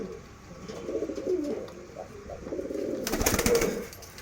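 Girebaaz pigeons coo softly in low, throaty murmurs nearby, then a sudden burst of wing flapping breaks in near the end as birds flutter up.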